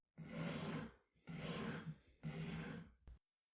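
A scissor blade is sharpened by hand, three soft rasping strokes in an even rhythm, close and faint with no talk.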